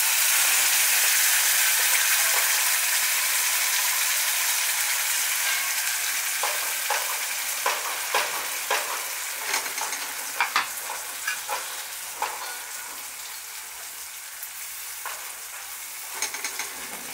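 Ground spice paste hits hot ghee with cumin over a low gas flame, bursting into a loud sizzle that slowly settles while a spoon scrapes and stirs in repeated clinks toward the end.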